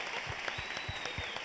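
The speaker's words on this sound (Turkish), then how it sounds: "Talebeler de alkışlıyor." Students clap in a studio audience on a TV talent show, a steady wash of applause with sharp rhythmic claps standing out, continuous through the short stretch.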